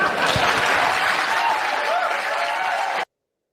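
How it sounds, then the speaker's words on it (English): A town hall crowd cheers for Trump with dense, steady applause and shouting that holds at full strength for about three seconds, then cuts off abruptly. "Notice the crowd. They're cheering for him."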